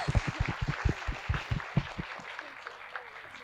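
Audience at an education talk by Prof. Dr. Yavuz Samur claps, strong distinct claps at first that thin out and fade within a few seconds into quieter room sound.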